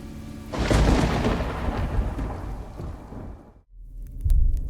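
A loud thunderclap in a storm rolls in and rumbles for a few seconds, fades briefly, then swells into a second deep rumble, with rain hissing beneath and no voices.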